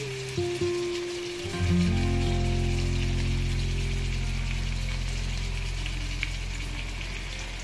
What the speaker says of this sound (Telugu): ఆయిల్లోని కొంచెం నెయ్యి వేసుకుని నెయ్యిలోని ఫ్రై చేసుకోవడం